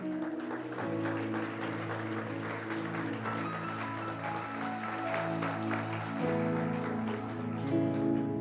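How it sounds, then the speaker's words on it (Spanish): Steady applause from a church congregation runs through the whole stretch, mixed with sustained music playing underneath. "Dale un aplauso al Señor."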